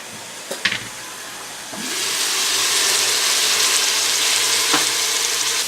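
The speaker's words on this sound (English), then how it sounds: "In with the potatoes so they can fry up a little bit." Potatoes for a curry dropped into a hot pan, a few clunks and knocks first, then a loud, steady hiss of sizzling oil that swells and holds close up, with another light clatter near the end.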